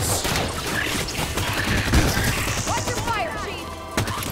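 Rapid gunfire rattles through a Halo 5 Guardians campaign battle, loud and continuous across the moment, mixed with crashes and game sound effects, while voices talk over the action.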